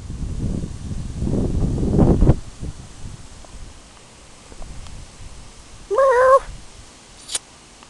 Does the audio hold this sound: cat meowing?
yes